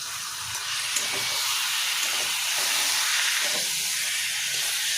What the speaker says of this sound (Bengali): আমি এবার এর মধ্যে চিকেনগুলো দিয়ে দেবো।